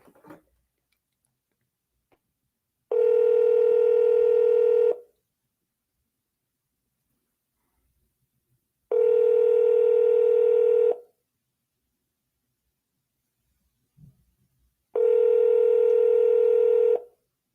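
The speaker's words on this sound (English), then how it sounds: "press 4. For the school counselor, press 5." A telephone call plays three long, steady keypad tones of about two seconds each, separated by silent pauses, loud and clean, with faint clicks in between.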